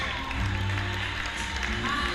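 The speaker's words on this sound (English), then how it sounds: "How about they get another nice round of applause?" Wedding guests applaud the newlyweds at a Cleveland reception, a steady dense patter of many hands filling the room at moderate volume, with faint voices mixed underneath.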